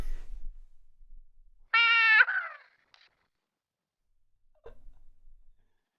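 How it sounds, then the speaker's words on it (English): A single short cat meow sounds in the Ace Attorney video game, clear and alone, followed by near silence. "It was a cat!"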